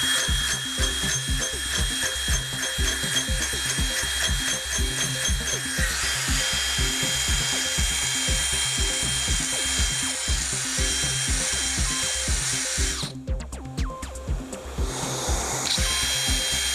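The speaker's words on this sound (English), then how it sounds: "I'm going to bang the back end of the drill while I'm drilling with my fist" A power drill bores into an electrical box with a loud continuous whine, while a fist bangs rhythmically on the back end of the drill. A short break near the end interrupts the drilling before it resumes.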